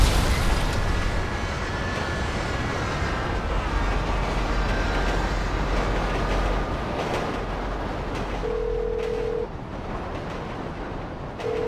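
A car slams into a train in GTA V, followed by a loud, continuous rumbling roar of the passing train and wreckage that fills the whole stretch, with a brief tonal beep near the end.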